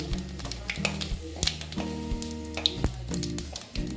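White cumin seeds sizzling in hot oil with a bay leaf in a pan, a soft steady crackle broken by sharp taps and stirring clinks of a utensil, with a faint tonal hum running beneath.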